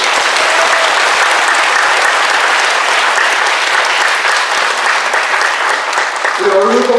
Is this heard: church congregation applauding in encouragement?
yes